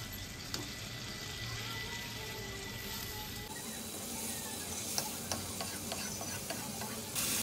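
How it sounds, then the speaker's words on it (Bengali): Pieces of katla fish tipped into a hot pan with water and spices over raised heat, giving a soft continuous sizzle and bubbling with a few light clinks, fairly quiet and unbroken by speech. "আঁচ বাড়িয়ে এবার মাছগুলি আমি ঢেলে দিচ্ছি"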